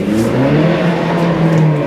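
An Audi's engine roars loudly and steadily, revving hard as it pulls away from a start, close and continuous with no voices.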